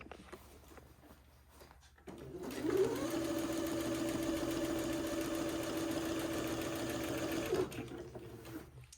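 A sewing machine runs steadily stitching a quarter-inch seam on fabric lining, a close, even mechanical whir that starts abruptly, holds at constant speed for about five seconds, then stops, with quiet room sound on either side.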